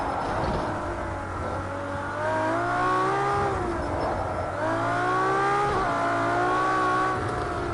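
A Ferrari race car in a racing video game runs with a steady engine drone that rises and falls in pitch through repeated revs and gear changes, loud and continuous.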